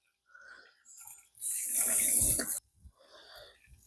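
Water rushes from the shower head of a CAMPLUX Nano 3 Ultra portable propane water heater, a loud hissing burst of about a second that cuts off abruptly, with quieter handling sounds before and after.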